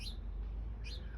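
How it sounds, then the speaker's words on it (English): Birds near a garden pond give two short, high chirps about a second apart over a steady low background hum. "there's a couple of birds that are checked out the water"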